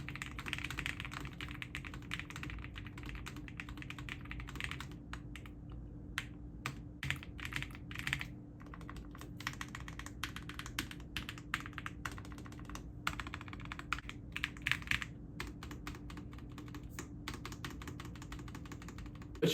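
Steady typing on a Lofree Flow low-profile keyboard with smooth linear switches, a close, continuous patter of soft clacks and keystrokes with no voices.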